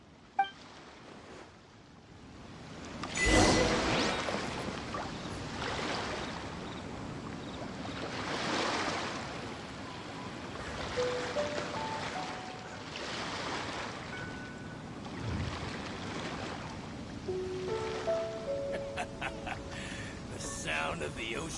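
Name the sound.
ocean waves in video game Genshin Impact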